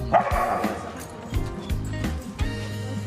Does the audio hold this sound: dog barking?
yes